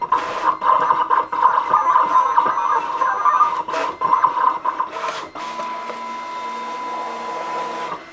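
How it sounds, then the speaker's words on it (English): A vinyl cutting machine works through a sheet of puff vinyl, giving off a busy, uneven whirring and scraping as the head moves back and forth, then settling into a steadier, quieter hum. "And now I'm going to stick it in the cutter."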